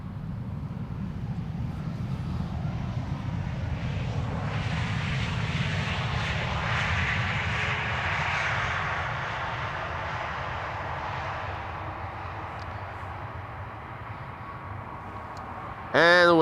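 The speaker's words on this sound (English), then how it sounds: "KLM flight 1570 arriving from Porto in Portugal has landed." A KLM airliner arriving from Porto lands at Schiphol Airport, its engines a broad, steady roar that swells and slowly fades over about sixteen seconds, with a sudden brief tonal burst at the end.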